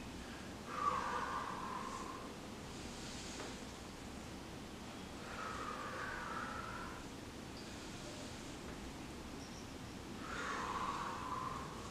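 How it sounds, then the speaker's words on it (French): Slow alternate nostril breathing, with an exhale through one side and an inhale through the other, comes as a few soft, airy breaths at gentle intervals over faint background hiss. "On expire du côté droit et on inspire du côté gauche"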